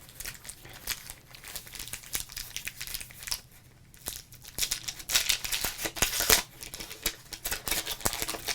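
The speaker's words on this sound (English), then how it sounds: "Opening the last 1991 pack of baseball cards ever." A 1991 pack of baseball cards is torn open and handled up close, with steady crinkling and crackling of the wax wrapper, sharp tearing bursts and papery shuffling that swell louder toward the end.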